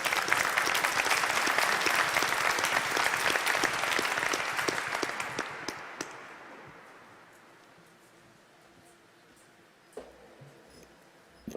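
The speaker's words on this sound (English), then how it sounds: "let's have a round of applause" An audience at a Commercial Space Transportation Advisory Committee meeting applauds: a room full of close, crisp clapping for about six seconds that gradually fades away into near silence, with a couple of faint knocks afterward.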